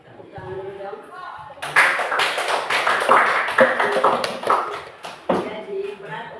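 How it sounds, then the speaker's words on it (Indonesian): A class in a classroom claps hands together for several seconds, a loud, uneven patter of overlapping claps that follows a short stretch of talking at the start. "Oke, tepuk tangan dulu dong."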